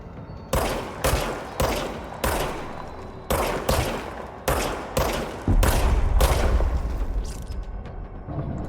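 Gunfire in the video game Control: a string of sharp shots in a steady rhythm, about a dozen separate blasts, followed by a denser, louder burst that rumbles low toward the end.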